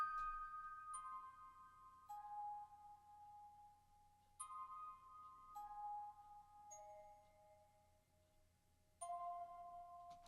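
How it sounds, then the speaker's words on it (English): Synthesized music box with a reshaped envelope and adjusted tone plays a slow, clear melody of sustained bell-like notes, each struck note ringing and overlapping the next, for an orchestral piece. No voices. "This is the music box, but I changed the envelope on it and a couple other things to get this nice tone."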